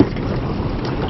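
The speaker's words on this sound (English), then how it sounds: "I'm really enjoying this breeze at the moment." Offshore wind gusts across a small fishing boat about 20 miles out at sea, a steady close rushing buffet against the microphone with a low rumble and no voices.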